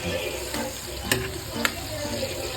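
Onion, garlic and ginger sautéing in a pan, a close, continuous sizzle broken by a couple of sharp spatula scrapes and clinks, with no voices.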